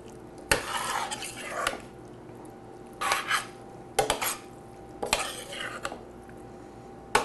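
Cooked pasta being gently tossed into sauce in a pan with a utensil, giving repeated scraping and clattering strokes in several bursts, fairly close, with no talk.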